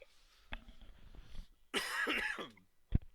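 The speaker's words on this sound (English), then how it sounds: "I cannot stop coughing on this episode." Close, quiet coughs: a short one, then a harsher, raspy fit with some throat clearing, and a final sharp cough.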